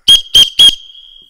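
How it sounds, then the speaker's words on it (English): Three short, loud, shrill whistle blasts from a referee's whistle at an on-field training session, evenly spaced, the last trailing into a fading ring. "Then you might hear three whistles."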